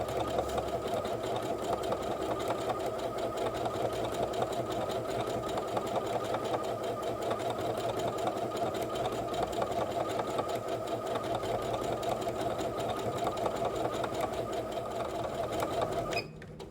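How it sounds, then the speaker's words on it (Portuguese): A Singer HD6805 sewing machine runs steadily for about sixteen seconds, stitching a mirrored heart pattern with a fast, even mechanical whir and chatter, close and continuous until it stops abruptly at the end. "vou deixar nessa posição, vou costurar e volto para mostrar para vocês"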